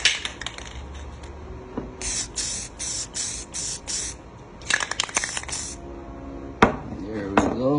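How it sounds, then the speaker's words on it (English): An aerosol can sprays a coating onto a security camera lens in short bursts, several hissing sprays close up, separated by brief pauses and handling clatter. "I'm gonna spray another coat."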